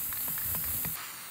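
Aerosol spray paint can releasing a few short hissing bursts in quick succession, then one longer steady spray that stops abruptly, close and fairly loud with no talking.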